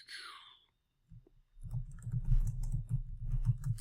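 Typing a search query on a computer keyboard, heard as a quick run of close, soft key clicks that start partway through after a brief pause, steady and continuous to the end.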